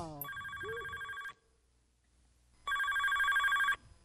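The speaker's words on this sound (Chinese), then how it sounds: "电话啊！ 电话你离较近，你接吧。" A telephone rings indoors during a comedy sketch: two loud electronic ring bursts, each about a second long, separated by a short quiet pause, with no talk over them.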